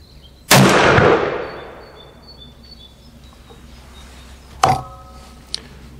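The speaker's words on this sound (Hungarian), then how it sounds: "Induljon a lövészet." A Pietta 1861 Navy black-powder revolver fires one loud, sharp shot with a long decaying echo, followed a few seconds later by a second, shorter report and a faint click, outdoors at a shooting range.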